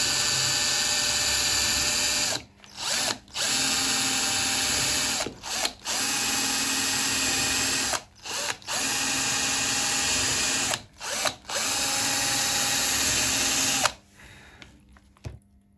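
An electric drill whines loudly in long bursts, stopping briefly between runs several times before the motor winds down at the end, boring holes for an electric saz build.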